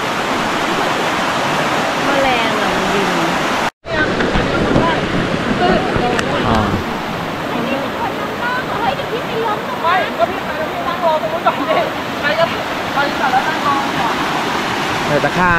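Stream water rushes steadily near a riverside trail on a forest hike, a broad continuous wash that stops for a moment after a cut, then continues with people talking over it.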